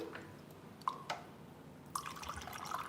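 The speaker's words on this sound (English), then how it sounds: "Oh, I need a little water, don't I?" Water drips and splashes in a few brief spurts as it is added to a homemade Mongolian sauce in a home kitchen, with a short pause between the two pours and no talking.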